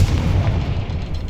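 Confringo explosive spell blast in Hogwarts Legacy, a single loud, deep boom with a rumbling tail that fades over about a second, alone without talk.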